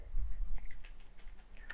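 Fingers type on a computer keyboard in a steady patter of soft, close clicks, with no talking over them.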